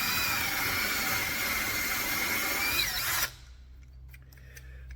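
Power drill spinning a 1.5-inch paddle bit through wood on a custom flatbed for a 2006 Ford F-250, a steady loud whine that cuts off abruptly after about three seconds, leaving quiet background.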